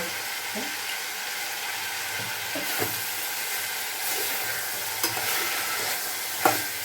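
Salted bitter gourd stir-fries in a pan over a low flame, keeping up a steady, close sizzle with a few brief spatula scrapes and knocks, and no talking.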